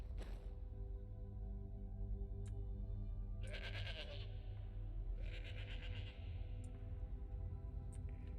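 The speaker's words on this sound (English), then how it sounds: "Damn goats." Goats bleat in Skyrim Special Edition, several calls spread across the stretch over a steady low game ambience, moderately close and fairly prominent.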